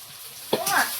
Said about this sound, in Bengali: আদা রসুন বাটা, পেঁয়াজটা ভালো করে ভাজা হয়ে গেছে